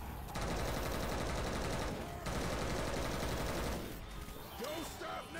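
Sustained rapid gunfire from survivors blasting a Tank in the zombie shooter Left 4 Dead 2, a dense continuous rattle of automatic weapons that briefly dips and resumes, loud and close.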